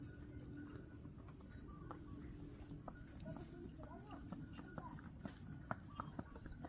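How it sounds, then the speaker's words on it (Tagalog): A horse walks past with a steady run of clip-clopping hooves at moderate distance, heard under people talking in a rural barangay in Davao City. "Dagan kay kabayo diri no?"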